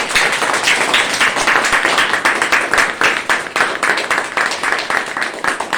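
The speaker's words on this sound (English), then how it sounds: "Let's have a huge round of applause for Sapnika." Audience applause after a poem recital at a Republic Day celebration: dense, steady clapping from many hands, fairly close and loud, continuing evenly throughout with no talking.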